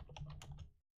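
Rapid clicking keystrokes on a computer keyboard, a quick cluster of close, crisp taps lasting under a second before stopping abruptly into silence.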